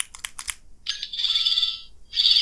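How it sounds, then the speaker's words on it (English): A toy sonic screwdriver's electronic beeps give way to a sustained, shrill warbling alarm tone that cuts off briefly and then starts again, loud and close. "It's like an alarm or something."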